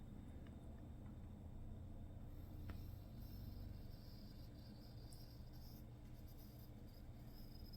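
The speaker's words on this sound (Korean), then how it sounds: "컴퍼스로 원을 그릴 때" A pencil compass scratching out a circle on paper, a faint, soft continuous rubbing of graphite close by, with a low room hum underneath and no talking.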